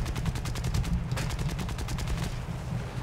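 Rapid bursts of 20 mm aircraft cannon fire from a float plane in a War Thunder air battle, a fast, even string of shots over a heavy drone of engine noise.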